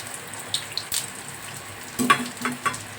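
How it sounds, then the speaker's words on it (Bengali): Bay leaf, dried chillies and cumin sizzle in hot oil with a soft, steady hiss and a few sharp crackles and pops, close and fairly quiet. "দিয়ে দিচ্ছি তেজপাতা ফোড়নে, 3টে শুকনো লঙ্কা, দিলাম জিরে"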